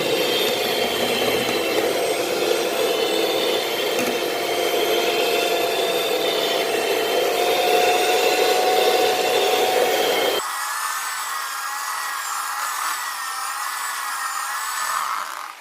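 Batter for a dark fantasy cake is beaten with a mixer, giving a loud, steady whirring drone that drops to a lighter, thinner hum partway through as the speed changes.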